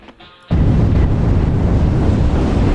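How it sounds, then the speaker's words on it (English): A gas line explodes in the zombie strategy game Atom Zombie Smasher, a sudden loud blast after a brief quiet moment that rolls on as a sustained, dense roar to the end. "Gas line explosion."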